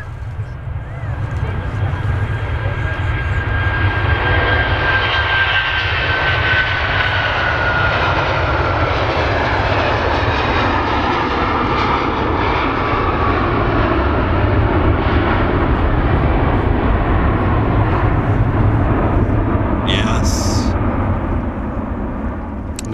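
Airbus A330 jet departing Manchester Airport, a loud, steady engine roar that holds throughout with a faint rising whine at first, heard from the ground nearby, with no talk over it.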